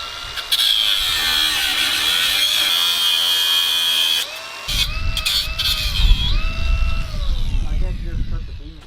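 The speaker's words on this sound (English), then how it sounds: "we're going to grind the bolts off" Loud, steady whine of a grinder cutting bolts off wooden deck posts during a deck demolition, running continuously for about four seconds before changing to rougher, heavier grinding with bangs mixed in.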